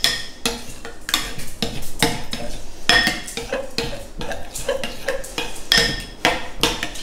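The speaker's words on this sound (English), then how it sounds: "we're just going to give that a good stir. Until we get all that garlic mixed in" A spoon stirs garlic into tomato pizza sauce in a pan, giving repeated close scraping and clinking knocks against the pan in an uneven rhythm, loud and without talk.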